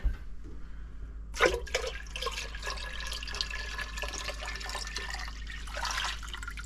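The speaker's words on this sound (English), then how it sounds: "that filtered water now goes into the Berkey" Filtered water trickles and splashes steadily into a Berkey water filter, a continuous liquid hiss with a brief louder gush near the start, over a low background hum.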